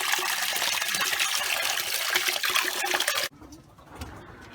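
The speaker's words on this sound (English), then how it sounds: "the birds are enjoying their little bath" Pigeons splash in a bath of fresh cold water, with dense busy splashing and soft cooing close by that cuts off abruptly, leaving quieter fluttering and faint water sounds.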